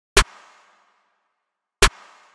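A trap snare and a clap with heavy reverb hit together twice, each a sharp crack followed by a long washy tail that fades in the gap, close and alone.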